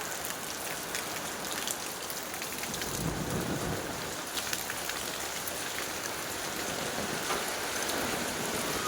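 Heavy rain pouring down in a storm, a dense, constant hiss of drops beating on surfaces with a low swell of distant rumble partway through, no voices.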